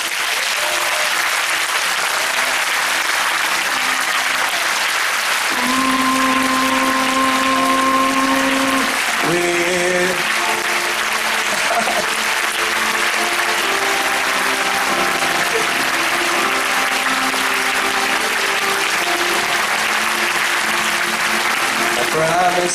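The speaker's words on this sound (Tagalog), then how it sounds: "Gusto ko po kayong pumalakpak, huwag mo nang papalakpak, na nakataas po ang iyong 2 kamay habang kayo pumapalakpak." A church congregation claps steadily with both hands raised overhead, a dense, continuous wash of applause that fills the whole stretch, with sustained musical tones ringing beneath it.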